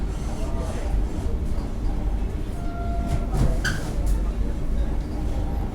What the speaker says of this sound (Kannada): ನೋಡ್ರಿ ಮತ್ತೊಂದು ಟ್ರೈನ್ ಬಂತು ತುಮಕೂರು ಮೈಸೂರು ಎಕ್ಸ್ಪ್ರೆಸ್